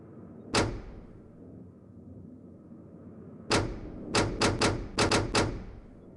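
Safe mechanism in the video game realMYST, a single sharp metallic click followed after a pause by a quick series of clacks over a low steady hum.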